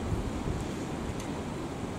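Steady wind gusts buffet the microphone at a breezy outdoor fishing spot, a continuous low rumbling roar with no voices.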